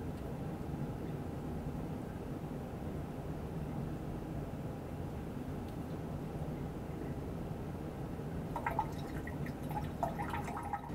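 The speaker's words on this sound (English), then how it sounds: "Turn the water on." Tap water runs through the hoses of a distillation condenser in a chemistry lab, a low steady flowing rush lasting the whole stretch, with faint drips and light clinks near the end.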